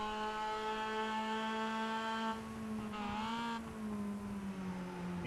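Simulated Spec Mazda MX-5 race cars in iRacing at Watkins Glen brake hard into a corner, engines droning with a steady harmonic whine that drops in pitch as they slow, loud and continuous with no talking.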